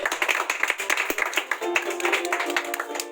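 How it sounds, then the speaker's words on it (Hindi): Steady crowd applause at a school award ceremony, with many hands clapping in a brisk, continuous patter close by and a faint murmur of voices under it. "तालियां बजनी चाहिए।"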